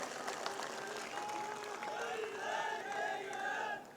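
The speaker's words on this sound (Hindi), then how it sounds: "इनका भी एक बार जोरदार ताली बजाकर अभिनंदन और स्वागत करें।" A large crowd at a BJP political rally in Nokha, Bikaner, claps continuously, with scattered cheers and raised voices over the dense, steady applause.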